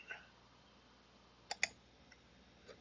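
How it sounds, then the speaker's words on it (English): A computer mouse gives a quick double click, two crisp, close clicks in rapid succession, with a fainter click or two afterward against a quiet room background. "So I'm going to click on that and double click on that to connect to it."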